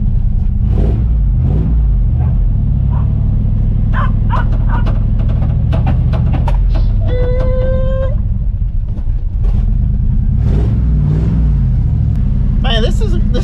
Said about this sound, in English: To do a burnout in this thing.